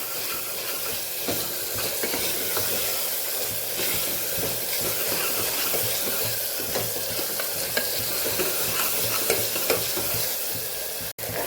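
Masala with green coriander sizzles in oil while being stirred for a Kathiawadi peas and potato curry, a steady close frying hiss with scraping stir strokes throughout, no voices.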